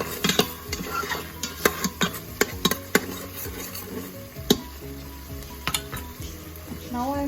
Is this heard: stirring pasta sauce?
yes